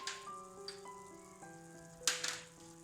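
Sweetcorn, thinly sliced capsicum and a chopped large onion sizzle softly in a pan for aloo makai tikki. Faint frying hiss rises in short bursts over steady background music.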